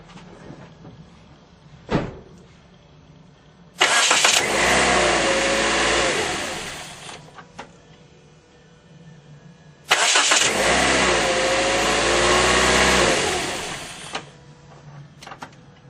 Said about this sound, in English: I'm going to start the car and see what happens.